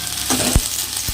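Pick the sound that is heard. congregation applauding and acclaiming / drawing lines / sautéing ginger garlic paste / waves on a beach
sautéing ginger garlic paste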